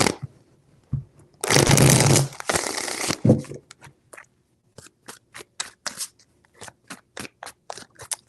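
Tarot cards shuffled close by: a dense riffling burst of about a second and a half, then a run of quick, crisp card flicks and taps in an uneven rhythm, with no talking.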